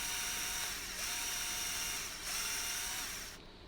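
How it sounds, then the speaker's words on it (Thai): A cheap cordless drill bores through 1 cm thick steel plate, a steady, loud high-pitched whine with grinding bite, easing briefly twice before cutting off near the end as the bit breaks through. "ก็เหล็กหนา1เซนนี่ถ้าเจาะได้ก็เหล็กอย่างอื่นนี่ก็น่าจะเจาะได้หมดนะครับ"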